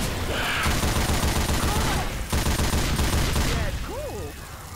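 Rapid bursts of gunfire fill a shooter video game, dense and continuous like a fusillade, with faint game voices and effects mixed underneath.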